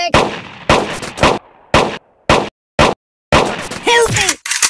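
Shots fire at a shooting range in the mobile game Kick The Buddy, a series of loud, evenly spaced sharp bangs with short gaps between them, and a cartoonish character voice cries out near the end.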